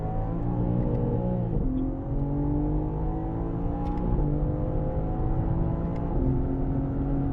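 A BMW M car on a track day at Sonoma Raceway, its engine droning loud and steady at high revs, the pitch dipping briefly with a shift before climbing again under sustained acceleration, no voices.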